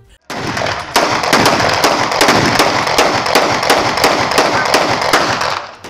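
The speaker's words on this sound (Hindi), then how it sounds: "इसके बाद अशरफ दोबारा पिस्टल लोड करके अली को देता है, जिसके बाद अली कई राउंड फायरिंग करता है।" A pistol is fired into the air at a wedding: a loud, rapid string of sharp cracks, more than a dozen shots in quick succession at close range, with a crowd murmur underneath.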